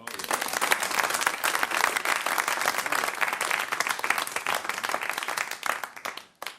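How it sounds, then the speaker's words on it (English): Loud, sustained applause from a theatre audience at a live comedy show, dense clapping for about six seconds before fading out. "Give him a round of applause."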